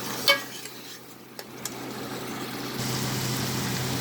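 Pre-fried chicken is tipped into karahi masala in a pan, giving a sharp clatter at the start, a couple of light knocks, then a steady low sizzle that strengthens toward the end.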